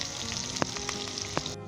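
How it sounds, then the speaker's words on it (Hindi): Ginger, garlic and onion sizzling in hot oil in a pan for a yogurt chicken curry, a loud continuous hiss broken by a couple of brief scraping stirs, heard up close. "इसे तकरीबन 2 से 3 मिनट तक फ्राई कर लें"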